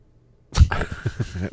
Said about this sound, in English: Underrated sneeze.